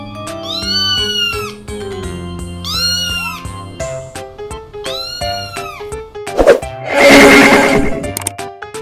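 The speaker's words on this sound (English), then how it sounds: "C for cat" A cat meows three times in clear, drawn-out calls set against light backing music, followed by a short burst of noisier sound.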